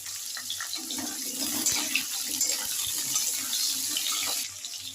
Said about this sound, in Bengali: তেলটা গরম হয়ে গেছে, এবার দিয়ে দিচ্ছি আলু।